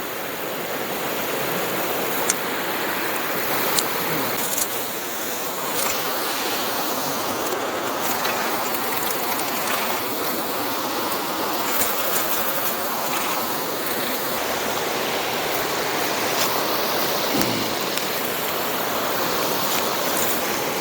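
Water trickles and drips steadily through a homemade water filter, a continuous close wash of fine splashing with a few sharper drip ticks scattered throughout, no voices.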